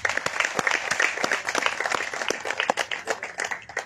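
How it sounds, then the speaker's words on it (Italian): An audience applauds at the opening evening of a book event held in memory of Enzo D'Agostino, with distinct individual claps standing out over a broader patter that thins and grows more uneven toward the end. "ci vuole davvero un altro applauso"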